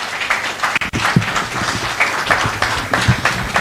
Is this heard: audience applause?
yes